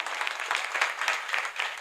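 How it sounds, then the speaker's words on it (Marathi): An audience at a kirtan claps loudly and densely in a sustained round of applause. "एकदा त्यांच्यासाठी जोरदार टाळ्या वाजवा."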